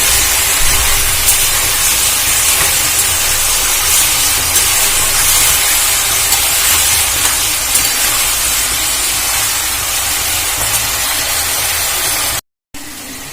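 Chicken pieces fry in hot oil in a village kitchen, Bengali style, giving a loud, steady, dense sizzle that holds without a break for nearly the whole stretch, cutting out for a moment near the end.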